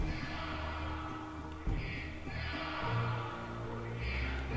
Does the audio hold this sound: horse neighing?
yes